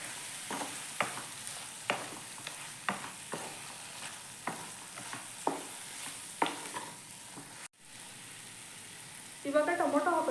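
Garam masala frying in a chicken gravy base in a pan, with a spoon stirring in regular strokes that scrape and clack against the pan over a low steady sizzle, then a brief pause and a louder sizzling burst at the end.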